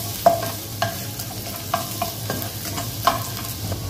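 Garlic sautéing in a pan for Filipino vegetable lumpia, with sharp spoon-against-pan clicks every half second or so over a low, steady sizzle and a faint background hum.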